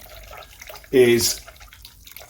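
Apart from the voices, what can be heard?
hot 70 °C water poured in for mozzarella curds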